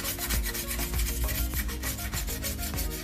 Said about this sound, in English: you just rub the tin foil on the surface.